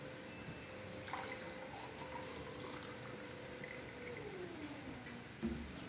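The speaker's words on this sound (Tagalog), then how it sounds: "Bago ko siya ilagay sa thermos, pinupuno ko muna ng tubig." Water being poured into a thermos at home while preparing ginger with lemon, a steady gurgling fill with a slowly shifting pitch and a small splash near the end, fairly quiet and close.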